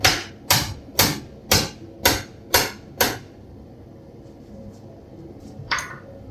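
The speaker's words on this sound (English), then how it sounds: "And the bigger hammer." Seven sharp metallic strikes from a bigger hammer on a trailer latch pin shaft at a forge in a steady rhythm, then a pause and one lighter tap; close, ringing hits with a quiet rumbling background.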